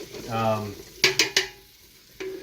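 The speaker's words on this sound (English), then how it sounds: "right now I'm just putting butter in so that I can dump some garlic and some onions and some root vegetables that aren't potatoes in there" Butter sizzling in a pot with garlic, onions and non-potato root vegetables, a short burst of frying, then a few sharp clanks of a utensil against the pot, close and moderately loud.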